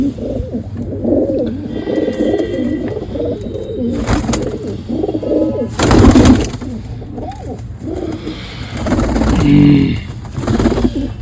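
Pigeons in a home loft, several birds cooing steadily and overlapping, loud and close, with a few bursts of wing flapping and rustling in between.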